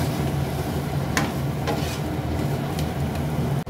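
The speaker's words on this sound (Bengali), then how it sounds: "এবারে ভালো করে নেড়ে এটাকে নামিয়ে নেব" Cauliflower with ground spices and ghee is stirred in a pan, a steady sizzle with a few scraping strokes of the spoon, close and fairly loud throughout.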